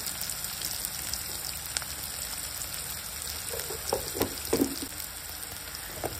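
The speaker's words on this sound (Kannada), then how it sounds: "ಅರ್ಶನ ಹಾಕಿದ ಮೇಲೆ ಮತ್ತೆ ಸ್ವಲ್ಪ ಫ್ರೈ ಮಾಡ್ಕೊಳ್ಳಿ" Spices with turmeric frying in a pan, a continuous crackling sizzle with scattered louder pops toward the end, close and alone without talk.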